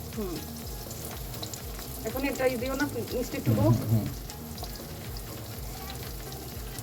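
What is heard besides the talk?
beaten egg frying in pan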